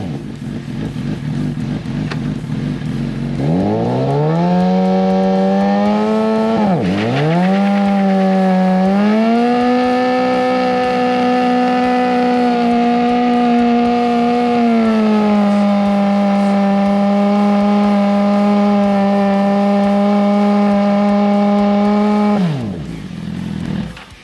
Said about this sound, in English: You're going to rev the throttle while holding the front brake.